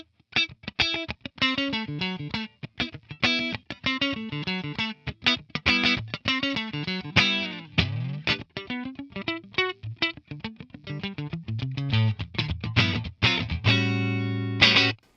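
Clipped, percussive electric guitar played through a 1963 Fender Vibroverb amp, brownface era, with rapid muted funk strums and stabbing chords in a busy rhythm, close and dry, ending on a held chord.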